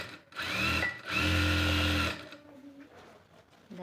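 Two bursts of sewing machine motor, close and loud, stitching the side seam of a blouse, with a short pause between and quiet handling afterward.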